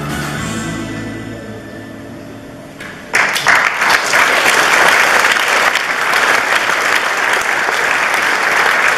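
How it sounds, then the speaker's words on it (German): Loud audience applause erupts suddenly at a municipal community day event, a dense, sustained roar of many clapping hands continuing to the end after a quieter musical passage fades out. "Der Applaus"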